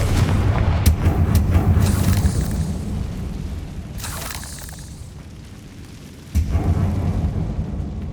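A Confringo spell blast in the Hogwarts Legacy video game, booming explosions and rumbling impacts at first, decaying into a lower roar before another sharp, loud blast bursts in and rumbles on.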